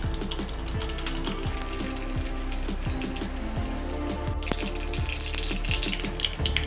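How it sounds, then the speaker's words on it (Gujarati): Mustard seeds crackling and popping in hot oil for a dhokla tempering: a steady bed of sizzle with frequent quick, dry pops and snaps scattered throughout, close and fairly loud. "રાઈ ફૂટી ગઈ છે"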